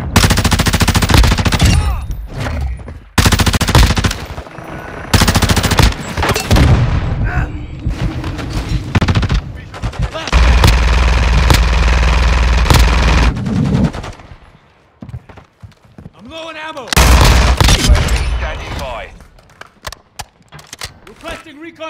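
Call of Duty Modern Warfare 2 multiplayer deathmatch gunfire: loud bursts of automatic fire and booming shots in repeated clusters with short gaps, mixed with game voice callouts.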